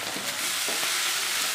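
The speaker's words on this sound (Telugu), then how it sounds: "ఈ ఉల్లిపాయ ముక్కలు పచ్చిమిర్చి ముక్కలు వేగాలి" Onion and green chilli pieces frying in a pan, a dense bright sizzle with soft stirring scrapes, close and steady.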